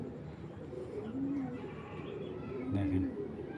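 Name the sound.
pair of green jira-gola pigeons cooing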